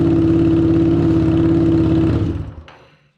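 A rebuilt fuel-injected Harley-Davidson Street 750 V-twin from a 2017 XG750 runs loud and close with a steady throbbing idle, then winds down and cuts off after about two seconds, leaving a brief clatter.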